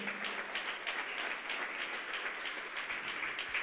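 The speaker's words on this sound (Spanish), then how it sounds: "Dele palmas a Cristo" Church congregation clapping together in sustained, dense applause, steady and fairly loud throughout, with no speech over it.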